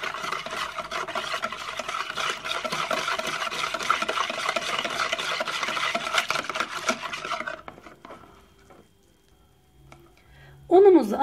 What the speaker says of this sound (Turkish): Şimdi bunları güzelce bir karıştıralım.